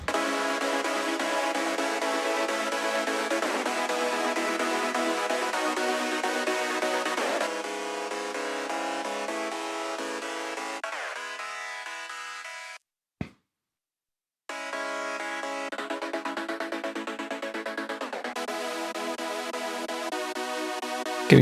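Progressive house synth chords in Cubase, some sawtooth and some gated, play as sustained layered chords with a brief dropout midway before resuming, no talking.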